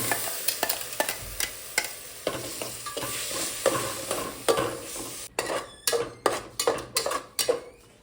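Ground masala paste for mutton sizzles and fries in a pan while being stirred, with a steady hiss broken by repeated scraping and clinking of a utensil against the pan, growing more rhythmic toward the end.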